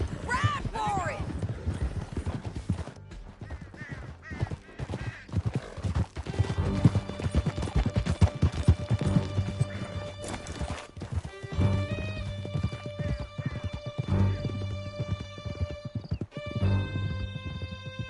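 Horses gallop hard in the video game Red Dead Redemption 2, with steady rapid hoofbeats, snorts and a whinny early on, under shouting voices and a swelling music score for the whole stretch.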